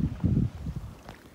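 A sailboat under sail crossing open water, with rushing wind buffeting the microphone in low gusts and faint water noise, brief and steady with no voices.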